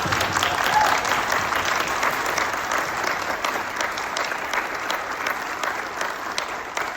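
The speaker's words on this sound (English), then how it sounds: "Let's give the candidates a round of applause." Sustained applause from an audience, steady and full for several seconds with no talking over it.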